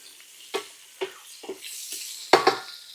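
Sausage and hog jowls sizzle as they caramelize in a pan for Southern braised cabbage, with a soft frying hiss under several distinct stirring scrapes and clinks of a utensil against the pan.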